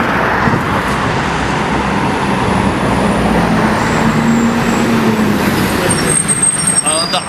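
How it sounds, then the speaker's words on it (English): A TTC number 100 city bus approaches through street traffic, its engine rumble loud and continuous amid steady road noise and passing vehicles, with a faint high whine near the end. "that is the 100 number bus coming, which takes you to the Broadview"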